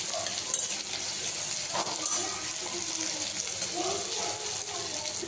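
Potatoes and onions fry together in a pan, giving a soft, steady sizzle with occasional stirring scrapes. The sound is quiet, with faint talk in the background.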